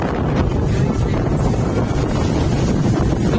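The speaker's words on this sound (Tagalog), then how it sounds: "Ang hangin ngayon." Strong, steady wind buffets the microphone outdoors on a city street near Buendia in Manila, a continuous loud roar of gusts with no pauses and no talking.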